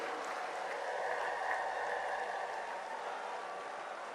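A large crowd at a political rally in Lucknow gives a sustained, even round of applause, heard faint and distant as a continuous roar of clapping.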